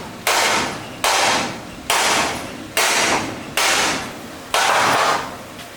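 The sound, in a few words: hammering with a hammer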